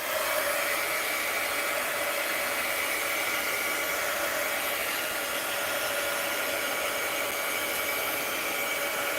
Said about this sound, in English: I hit it with a heat gun.